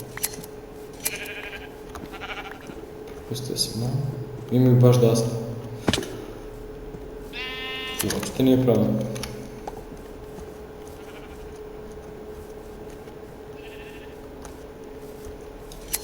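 Sheep in the video game Minecraft bleat a few times, with short wavering calls around the middle of the stretch, while someone talks casually over and between them.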